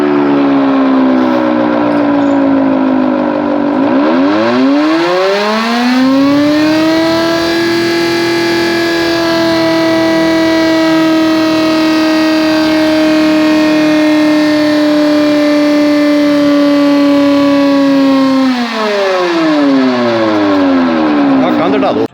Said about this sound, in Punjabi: ਜਿਹੜਾ ਸਾਇਰਨ ਲੱਗਾ ਦਾ ਵਾ ਐਮਰਜੈਂਸੀ ਸਾਇਰਨ ਇਹਨੂੰ ਅਜੇ ਟੀਮ 'ਚ ਚੈੱਕ ਕੀਤਾ ਗਿਆ